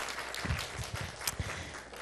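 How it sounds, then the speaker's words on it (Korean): A church congregation at a youth worship service claps, a short burst of scattered, fairly close applause with a few sharper individual claps. "더 힘찬 박수로"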